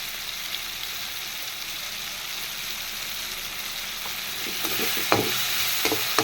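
Sizzling of onion and tomato sautéing in a pan with masala powder, a steady close frying hiss with scraping stir strokes that grow more frequent toward the end; no talking.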